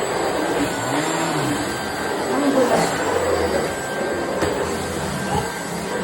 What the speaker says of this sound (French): Ça fait l'aspirateur quand même